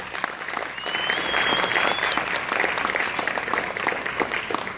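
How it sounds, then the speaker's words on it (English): A crowd at a graduation gathering gives the graduating class a round of applause, loud, dense and steady from start to finish, with a faint whistle near the start. "Let's give them a round of applause."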